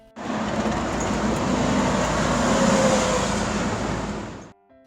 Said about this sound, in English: It's the ice cream truck.